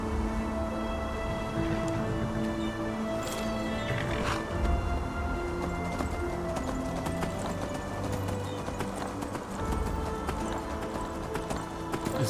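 Steady clip-clop of horse hooves in the game Enderal, continuous and fairly close, with an occasional whinny over a dense background of ambient music and noise.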